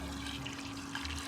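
Water poured into a model baking soda volcano gives a soft, continuous trickling and sloshing at low volume, alone without talk, over a faint steady background hum.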